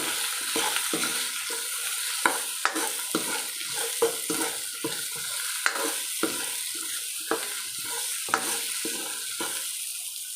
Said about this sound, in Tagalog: Ngayon, haluin uli natin siya.